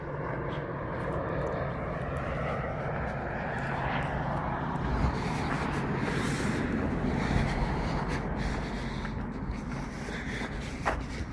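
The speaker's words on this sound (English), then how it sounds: "here comes an aircraft and coming in for a landing" An airplane comes in to land near Cheyenne, Wyoming, and its steady, loud engine roar fills the whole stretch from start to finish, with faint shuffling movement nearby.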